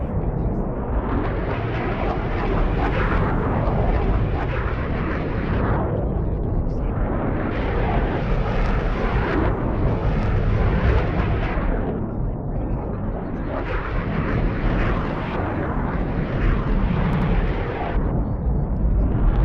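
Two fighter jets locked in a one-on-one tournament dogfight in a flight-combat video game: a dense, continuous roar of engines and rumbling blasts that swells and dips in waves throughout.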